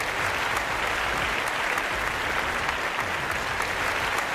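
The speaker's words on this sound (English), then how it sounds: "My favorite part about the applause sample is that you can tell when it loops." Steady applause from a looping fake applause sample, an even wash of clapping that holds at one level throughout.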